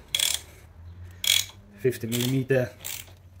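A 16mm spanner works a final drive bolt loose on a BMW R1200 GS motorcycle, making several short, close metallic ratcheting clicks in bursts. Someone speaks briefly between them.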